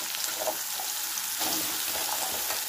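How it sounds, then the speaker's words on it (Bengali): Potatoes fry in a covered pan with dried red chilli and nigella seeds in a steady, dense sizzle. Faint stirring scrapes sound up close. "আলুটা আমি ঢেকে ঢেকে ভাজবো"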